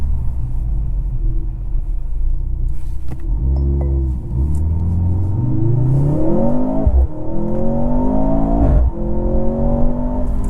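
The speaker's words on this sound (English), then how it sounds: "this 4-cylinder sounds pretty good under load" A 2023 Mercedes C43 AMG sedan's four-cylinder engine rumbles at idle, then revs up hard in sport mode, its pitch climbing through several gear changes as it accelerates.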